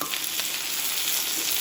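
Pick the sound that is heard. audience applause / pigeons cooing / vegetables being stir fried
vegetables being stir fried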